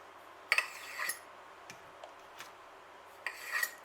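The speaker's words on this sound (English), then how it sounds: "I'm spreading really thick margarine on 2 huge slices of bread" Knife spreading thick margarine across two large slices of bread, heard as soft close scraping rasps in a few short strokes with quiet gaps between.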